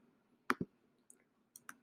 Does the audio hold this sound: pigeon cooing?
no